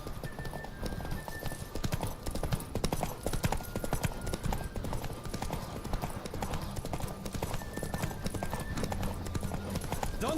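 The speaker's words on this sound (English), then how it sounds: "Don't spare the horse!" Horse hooves drum in a fast, steady gallop during a race in the Witcher 3 video game, loud and close, with occasional whinnies and a voice over the galloping.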